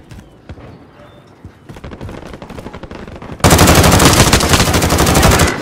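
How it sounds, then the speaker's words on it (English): Rapid automatic gunfire in a first-person video game shooter, starting as scattered distant bursts and then erupting into loud, continuous close-range firing that dominates the last two seconds. "I'm taking fire!"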